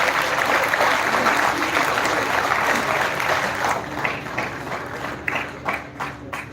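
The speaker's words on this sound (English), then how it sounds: "Please give him a big round of applause." A crowd applauds at the Techspardha'22 inauguration function, dense sustained clapping that thins into scattered individual claps toward the end, with no talk.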